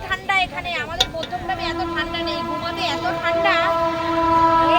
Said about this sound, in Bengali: এই যে ট্রেন যাচ্ছে একদম ট্রেন রুট তার পাশেই মাঠ